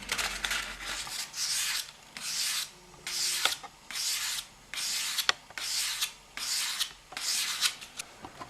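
A spoon knife is drawn across a 1000-grit stone in steady, rhythmic rubbing strokes, about eight to nine close scraping passes with short gaps between them and no voices.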